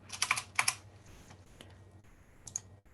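Someone types on a computer keyboard with close, quick clusters of key clicks and a few single taps separated by short pauses, with no voices.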